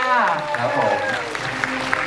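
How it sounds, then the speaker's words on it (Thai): Applause from an audience for a film's cast and director at a Thai movie event, moderately loud and continuous, mixed with voices and a musical tone. "ขอเสียงปรบมือดังๆ อีกครั้งหนึ่งค่ะ"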